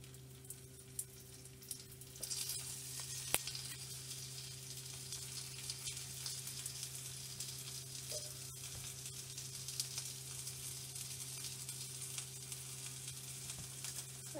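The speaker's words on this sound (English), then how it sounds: "Now I am going to place the gyoza on the frying pan." Steady, close sizzling of pork gyoza frying in sesame oil in a frying pan, a continuous crackle with a few sharper pops and a low hum underneath.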